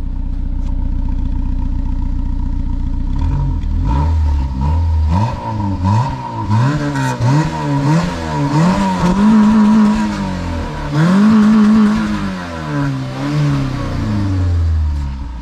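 A warm car engine is heard from behind the vehicle, idling with a low rumble and then revving repeatedly in rising and falling bursts, loud and close, with no talk.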